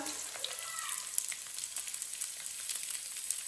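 Garlic and ginger paste fries with browned onions in a pan, giving a steady close hiss and sizzle, with occasional light crackles and stirring sounds.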